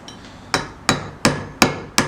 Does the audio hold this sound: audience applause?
no